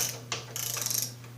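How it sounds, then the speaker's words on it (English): Socket ratchet tightening a bolt while reassembling an Ariens snowblower, a quick run of close, crisp clicks in bursts over a steady background hum. "We're going to stick a socket in here and tighten that up"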